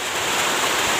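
Heavy rain pours down during eel fishing outdoors, a loud, dense and steady rushing hiss that fills the whole moment without pauses or speech.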